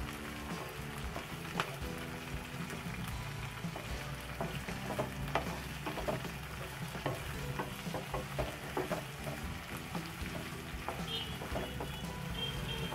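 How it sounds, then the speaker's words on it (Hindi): Carrot, radish and bell pepper fry over a full flame for a dry mixed-vegetable dish, giving a steady, dense sizzle with frequent scraping and clinking stir strokes throughout. "और अब हम इसमें ऐड करेंगे गाजर, और ऐड करेंगे मूली, और ऐड करेंगे शिमला मिर्च, और इन सारी वेजीज को हम अच्छे से कर लेंगे फ्राई"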